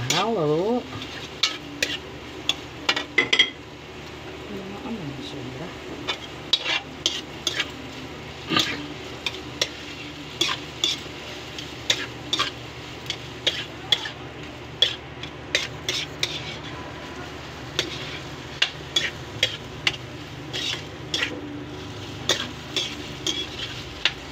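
Shellfish sisig being stirred with mayonnaise in a pan, made with sikadsikad shells in place of pork: repeated sharp scrapes and clinks of a utensil against the pan over a steady soft sizzle, close and fairly loud.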